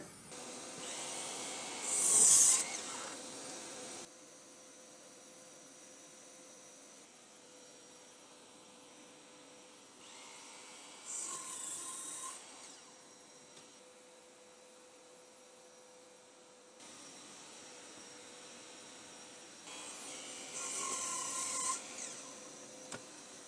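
A Trend T18S cordless mitre saw makes mitre and bevel cuts in three separate bursts of high motor whine, each spinning up and cutting for a few seconds, with quieter handling noise between them.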